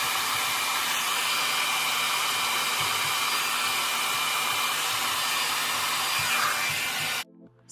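A hair dryer blowing on short natural hair, a steady loud whooshing roar with a motor whine, close and unbroken until it abruptly switches off near the end.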